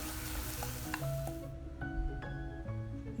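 Sliced onion frying in a pan with turmeric and ginger-garlic paste, a steady close sizzle broken by a few light stirring scrapes.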